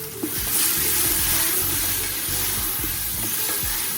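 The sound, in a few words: fire roasted peppers added to a sizzling pan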